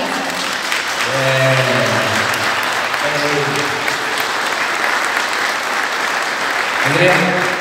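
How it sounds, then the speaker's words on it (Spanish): Audience applause at a school party, a steady broadband clapping wash that holds through the whole stretch while a voice speaks over it intermittently. "un aplauso gigante con todo el corazón"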